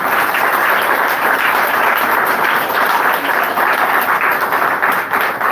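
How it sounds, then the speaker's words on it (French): A church congregation bursts into sustained applause, dense steady clapping from many hands filling the room at close range for the whole stretch, with no voices rising above it. "je vais demander pour que l'Assemblée applaudisse"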